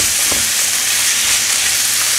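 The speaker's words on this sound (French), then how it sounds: "On fait revenir." Beef with mushrooms and ginger sautés in a pan with a little added water, giving a steady loud broadband sizzle throughout and one brief stir scrape near the start.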